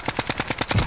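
Rapid automatic gunfire in a video game shooter, a steady burst of about eight evenly spaced shots in under a second, loud and close with no talk over it.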